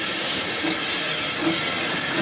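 A steam locomotive pulling away after the regulator is opened, giving a loud, continuous hissing rumble of steam and rolling train noise, close by and without talk.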